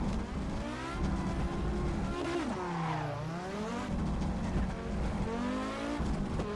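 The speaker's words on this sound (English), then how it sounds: "Seems to be a crapshoot when I can get the tires to spin out of there" Audi Quattro S1 driven hard around the Highland drift layout in Assetto Corsa, its engine revving up and down in sweeping pitch bends while the tires spin and squeal, loud and steady throughout.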